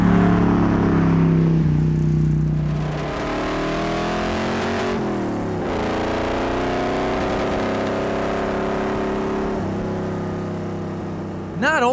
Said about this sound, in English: Not only does the truck have an awesome sound, but also the power to throw you back in the seat whenever you stomp on it.